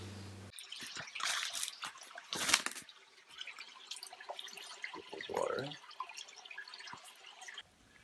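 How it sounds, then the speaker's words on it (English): Water drips through a gravity-fed filter at an outdoor bushcraft camp in the morning, with scattered soft drips and small clicks amid campsite noise and a brief nearby voice. "Looks like everybody's filtering their water. I like this approach, just let it drip. Let gravity feed it."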